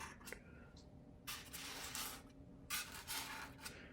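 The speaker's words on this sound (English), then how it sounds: "I then take my hot wire and I cut these slots out." A hot wire cuts slots through balsa build-up on a Vertigo 2M model glider's control surfaces, giving two soft, close hissing rasps of about a second each, separated by a brief pause, with faint scratchy touches before and after.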